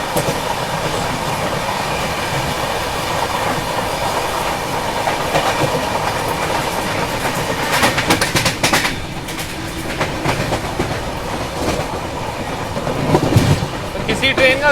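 The Rajdhani Express rolls steadily along the rails, with a continuous rumble and rhythmic clickety-clack heard from on board, and a brief brighter wheel screech near the end.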